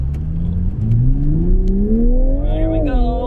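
A 2022 GR Toyota Supra 3.0 Premium with a throttle response controller in its most aggressive mode accelerates on a street test drive, the engine note climbing smoothly in pitch, loud and close from inside the cabin, with brief voices over it.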